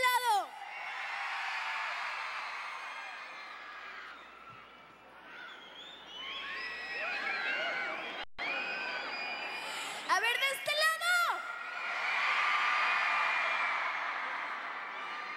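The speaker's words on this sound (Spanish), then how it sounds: "de este lado gritan muy fuerte" A large concert crowd at a live pop show shouts, whoops and cheers loudly and continuously, with a brief dip before a second surge of yelling from another section of the audience.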